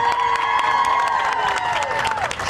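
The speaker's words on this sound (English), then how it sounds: "give your folks a round of applause" A crowd at a graduation claps, cheers and whoops for the graduates, with shrill voices and sharp claps layered over a continuous roar of applause.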